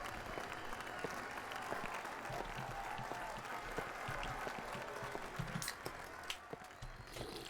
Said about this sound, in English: The applause is so disorienting.